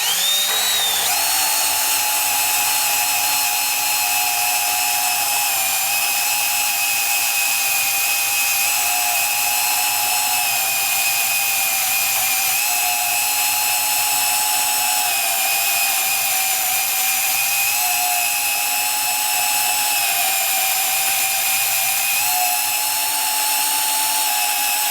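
A Milwaukee 2429-20 M12 sub-compact band saw cuts through 1/4 inch plate, giving a steady, loud, high motor whine with a constant pitch that holds unbroken for the whole stretch, without any talking.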